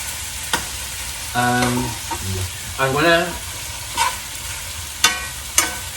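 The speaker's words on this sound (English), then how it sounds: "I'm gonna stir the beans" Beans fry in a pan while being stirred, giving soft sizzling under scraping and clattering of the spoon, with a few sharp clicks and brief tonal sounds in a kitchen.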